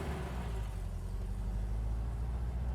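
Air-cooled 1600 flat-four of a 1964 Porsche 356 SC Cabriolet pulling steadily in first gear, a low continuous engine drone with road rumble, no voices.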